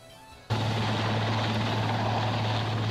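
After a brief quiet moment, a helicopter's roar cuts in abruptly and holds as a loud, steady drone with a deep pulsing rotor hum, as if passing close overhead.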